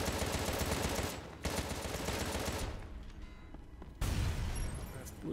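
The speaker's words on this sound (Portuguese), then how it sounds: "Explodiu o ônibus" Loud, dense bursts of explosions and crackling gunfire in the game Contra: Rogue Corps, dropping briefly before a final heavy blast near the end as a bus explodes.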